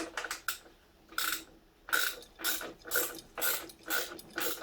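Ratchet clicks in quick bursts as a bolt is turned on a motorcycle mudguard being replaced, several short runs of rapid clicking spaced across the clip, close and fairly loud with no talk.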